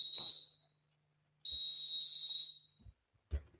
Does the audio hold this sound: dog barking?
no